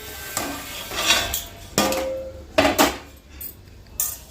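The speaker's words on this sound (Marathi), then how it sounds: "तीळ भाजताना असा छान तडतडायचा आवाज" Native sesame seeds dry-roasting in a kadhai over medium-low flame, with bursts of crackling and scraping from stirring that come in irregular clusters separated by short quieter gaps.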